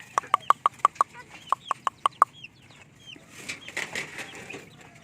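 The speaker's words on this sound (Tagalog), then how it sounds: "Ito yung ating mga magpo-4 months na mga sisiw." A Rhode Island Red hen and her roughly four-month-old chicks cluck close by, opening with a quick run of sharp, evenly spaced clucks, then fainter scattered chirps and rustling.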